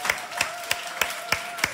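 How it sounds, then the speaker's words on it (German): A few people clap together in a room in slow, evenly spaced claps, six distinct beats, moderately faint and close. "das ist ein Applaus wert"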